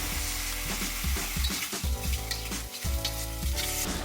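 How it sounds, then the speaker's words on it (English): Leeks and king oyster mushrooms stir-fry in a wok with a lively, continuous sizzle broken by repeated scrapes and tosses of a spatula, close up and with no voices. "We're going to stir fry this for about 10 minutes"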